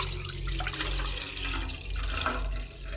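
One litre of milk pours into a pot set on the stove, a steady close liquid splash and gurgle running continuously for a few seconds with no talk.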